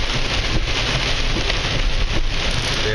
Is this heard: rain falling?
yes